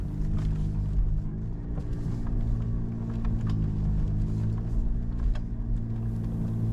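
A vehicle drives the rough sandy track into Lake Wabby, a steady low engine rumble with faint knocks and rattles over the bumps, loud and continuous throughout.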